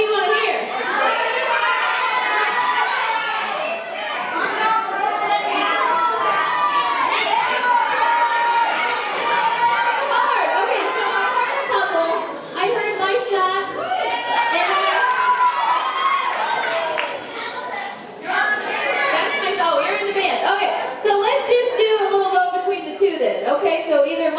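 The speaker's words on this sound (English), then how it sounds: "y'all gotta holler or scream for one you want" Intermediate school chorus audience of children hollering and screaming at a concert, a dense continuous roar of young voices and crowd noise with people talking throughout.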